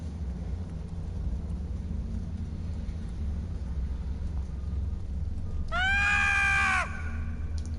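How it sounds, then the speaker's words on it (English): A high-pitched, wavering squealing scream from a Ferengi character in a Star Trek video game bursts out for about a second over a steady low engine-like hum. "Ferengis have a high pitch when it comes to screaming."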